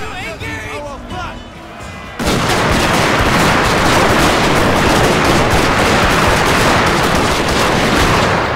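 Sustained, loud rapid gunfire from Gatling guns in the strategy game Shogun 2, a dense continuous barrage kicking in after two seconds of quieter battle ambience and voices.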